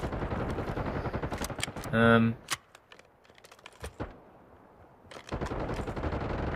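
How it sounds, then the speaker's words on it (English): Rapid clicks and metallic clacks of an LMG belt reload in the video game Call of Duty Black Ops 6, with a brief tonal mechanical whir partway through, close and crisp, partly under talking. "this reload is admittedly very fast"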